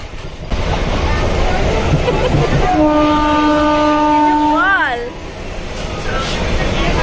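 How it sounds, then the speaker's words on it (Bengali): Steady rumble inside a moving passenger train carriage, with people talking throughout and a long multi-tone train horn sounding loudly from about the third second, then fading as the car noise continues. "এই যে আমরা উঠে পড়েছি এখন ট্রেন।"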